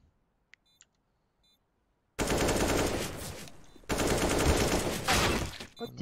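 Gunfire in Counter-Strike on FACEIT: after a near-silent start with faint clicks, loud rapid automatic bursts erupt, break briefly, then resume in a second sustained volley.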